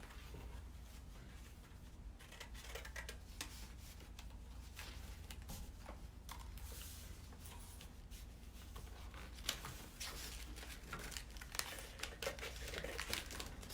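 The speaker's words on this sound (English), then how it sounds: "So where I marked it for 15 inches, I'm cutting that off the top." Paper being cut off the top at a marked 15-inch line for an origami activity, with soft crinkling, snipping and rustling that runs steadily and close, fairly quiet, with no talking.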